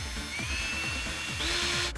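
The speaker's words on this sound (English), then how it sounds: "then we drill in the screws that tap it in to hold it firmly to the bumper" Power drill driving self-tapping screws into a front lip on the bumper of a 2006 Subaru Legacy, a whirring motor with a rising whine and repeated short grinding pulses, close and continuous.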